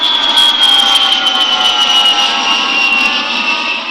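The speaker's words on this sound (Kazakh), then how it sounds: "ең қатты дыбыс ұшақтың гүрілін тыңдап" An airplane's jet engine roars loudly and continuously, a broad rushing blast with a high whining tone that slowly drifts down in pitch, sounding close and overpowering for the full four seconds, with no voices.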